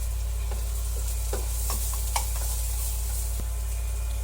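Ginger, onion and garlic sauté in a pan for Bicol kinunot, a constant steady sizzle with soft stirring scrapes over a low electrical hum.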